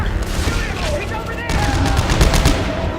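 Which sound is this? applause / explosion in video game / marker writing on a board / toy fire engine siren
explosion in video game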